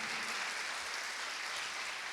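A church congregation applauds in praise of Jesus, and the clapping forms a dense, fairly faint wash of many hands that continues evenly with no gaps.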